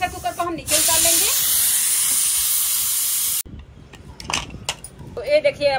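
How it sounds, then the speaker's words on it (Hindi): Pressure cooker of peas and potatoes vents after six whistles: a loud, sustained hiss of escaping steam lasts about three seconds, then cuts off sharply, with someone speaking before and after. "तो 6 सीटी हो गया है, प्रेशर कुकर को हम नीचे उतार लेंगे।"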